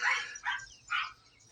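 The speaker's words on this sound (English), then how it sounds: "I don't know if y'all can hear these dogs barking in the background." Dogs bark in the background in three quick, yelping bursts, moderately loud with short pauses between them.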